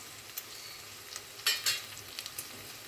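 Beans sauté in hot oil in a pan for vegetable sothi, a faint, steady sizzle broken by a few sharper crackles and stirring scrapes, with no voices.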